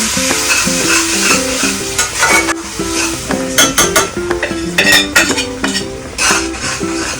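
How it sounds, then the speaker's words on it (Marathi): Melted jaggery stirred into cooked chana dal in a pan, with a spoon scraping and knocking against the metal over a soft sizzle, close and continuous with no talk. "जे गुळ वितळून घेतला आहे ते आपण त्याच्यात टाकूया"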